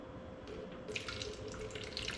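Tap water running into a container, measured out for homemade castile soap, a quiet steady stream with faint splashing and a few small clinks in a home kitchen.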